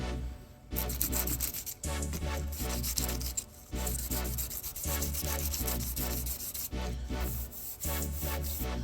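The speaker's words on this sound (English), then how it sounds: "smoothing out the bad parts, smoothing out all that bad clear coat." Clear coat sanded on an OBS truck, rhythmic close-up rasping strokes of sandpaper with brief pauses between passes, loud and alone with no voices.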